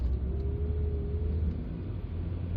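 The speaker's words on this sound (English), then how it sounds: "Gearbox is sort of flaring a bit." Engine of a 2007 Renault Laguna II Sport Tourer 2.0 with automatic gearbox flaring while climbing a hill, a steady low rumble inside the car with a faint rising whine, moderately quiet and without talk.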